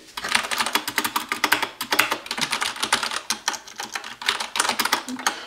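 Fast, steady typing on a Corsair K66 mechanical keyboard with linear switches, muted key presses clattering close by in uneven bursts and no distinct clicks.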